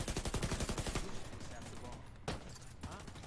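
Rapid automatic gunfire in The Division 2 video game as a sniper is shot, a fast burst of repeated shots for about a second followed by a single sharp report, loud amid game ambience.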